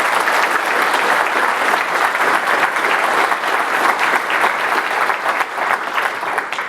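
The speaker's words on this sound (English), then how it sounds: "So I just would like to do a little round of applause." A DevOps Days conference audience gives a round of applause for the organizers: loud, thick, sustained clapping from a large crowd that holds steady for several seconds and eases slightly at the end.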